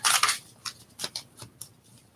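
Tarot cards shuffled by hand, a quick papery riffle followed by several short, soft slapping bursts spaced unevenly, close and fairly quiet.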